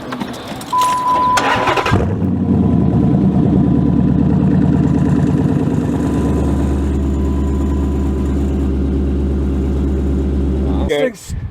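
A 5.7 Hemi truck engine fitted with short equal-length headers cranks and fires, then runs loud and close with a rough, throbbing idle for about nine seconds before cutting off abruptly.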